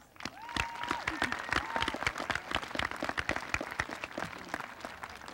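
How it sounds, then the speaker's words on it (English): A large graduation crowd at a high school ceremony applauds the teachers, dense continuous clapping with sharp individual claps cutting through, sustained and fairly close throughout. "I think they deserve a big round of applause"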